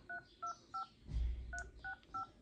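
Phone keypad tones from a Samsung Galaxy M02 beep in a steady series, three quick presses, a pause with a brief low thump, then three more, fairly faint.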